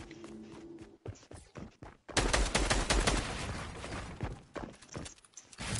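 A video game firefight crackles with dense, sustained gunfire and rapid bursts that continue for several seconds. Occasional brief pauses break the noisy barrage, and no one talks over it.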